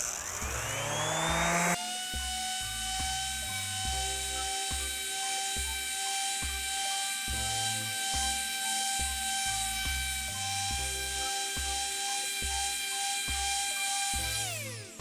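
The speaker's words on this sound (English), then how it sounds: "So now I've got this particular sander turned up to its highest speed." An orbital sander runs at its highest speed, a steady close whine with a droning buzz and rhythmic pulsing as it works across the surface, continuous and alone for the whole stretch.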